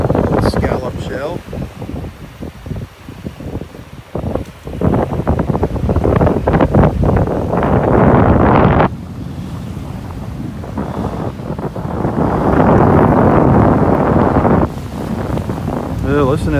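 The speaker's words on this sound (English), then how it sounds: "Listen to that wind." Strong wind buffets the microphone on a North Naples, Florida beach, a loud, gusting roar that rises and falls over the surf, with someone talking at times.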